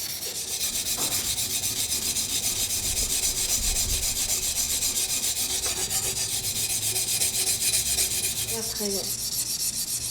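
A knife blade's tip is ground on a coarse 200-grit sharpening stone, giving a continuous close, gritty rasping rub with steady back-and-forth strokes and no voices.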